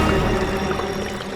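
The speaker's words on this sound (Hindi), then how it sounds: "ये पानी की आवाज आ रही है" Water rushes and pours steadily, a close continuous wash of sound with no talking.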